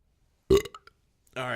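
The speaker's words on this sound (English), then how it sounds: "ladies and gentlemen, the belching beauty" A loud, deep belch erupts suddenly and trails off in a few gulping fragments, then a person begins talking.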